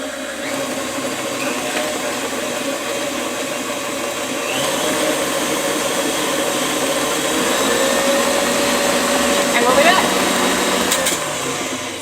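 An electric mixer beats eggs into creamed butter and sugar for a lemon pound cake batter, a steady motor whir that slowly builds in speed and stays running for the whole stretch.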